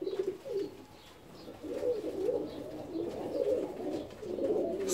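Fancy ornamental pigeons coo softly and repeatedly in an aviary, a low, rolling murmur of several birds close by with no talk.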